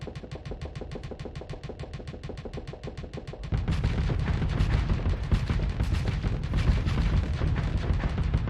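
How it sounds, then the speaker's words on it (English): Assault chain guns fire in Starsector space combat as a dense, rapid stream of mechanical shots that grows heavier and louder halfway through, with no talk over it. "Fire your assault chain guns for a bit and watch how they build up flux."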